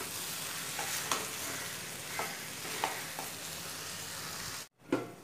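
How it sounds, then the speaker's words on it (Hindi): Cauliflower for a cauliflower-potato sabji sizzles steadily in a pan over a slow flame as it is stirred, with soft scraping strokes every second or so, a brief pause, then one more stir. "इस गोभी को आप थोड़ा थोड़ा आगे पीछे हिला लीजिए"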